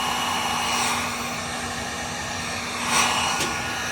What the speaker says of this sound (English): you just take this heat gun and just start warming it up, and it'll form into place